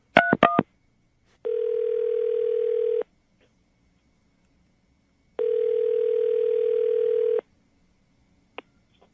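A call placed on a radio show begins with a rapid burst of telephone dialing tones, then two long, steady ringback tones separated by silence, loud and clear.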